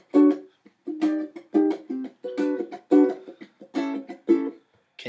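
A ukulele strummed fast in a down-mute-mute-up pattern, with ringing chord strokes broken by short percussive muted chucks, close and solo in a steady rhythm.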